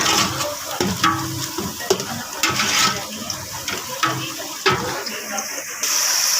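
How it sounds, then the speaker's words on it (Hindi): Chicken frying in a pan with browned onions, a steady close sizzle with scraping stirring strokes and occasional clatter, without speech. "अब चिकन को थोड़ा सा इसमें फ्राई होने देंगे"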